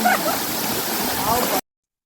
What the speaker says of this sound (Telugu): నీళ్ళు ఎక్కువ పడుతూ ఉంది